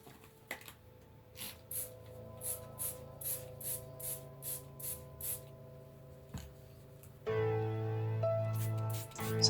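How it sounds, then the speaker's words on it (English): Short repeated spray bursts of disinfectant are aimed inside an opened package, about a dozen even hisses in a steady rhythm. A louder rustling, humming stretch follows near the end. "open the package and then spray the contents inside"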